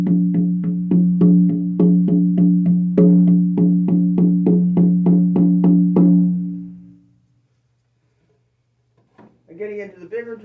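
A 13-inch full-wrap deer hide frame drum with a harmonic shamanic handle is beaten in a quick, even series of deep, booming strokes that sustain and die away, then a voice speaks briefly.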